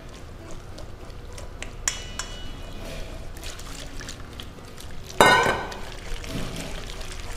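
Starchy pasta water is poured into a hot pan with butter while making a pasta sauce, a brief splashing sizzle rising over low kitchen clatter and a quiet background murmur.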